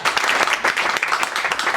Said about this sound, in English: So, give a round of applause for Victor.